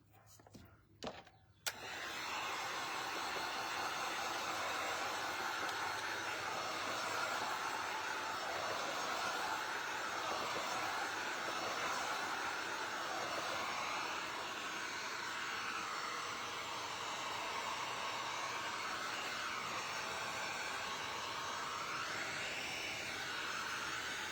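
A hair dryer blows steadily on freshly stencilled paint, a loud continuous whooshing roar with a wavering pitch that starts after a few brief clicks and handling noises and runs unbroken to the end.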